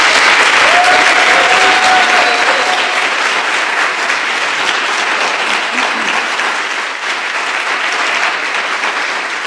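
An audience at a police department street-smart self-defense program ceremony claps loudly and continuously, with dense applause that fades slightly toward the end.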